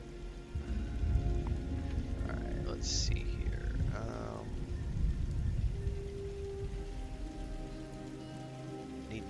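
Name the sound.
rain in a video game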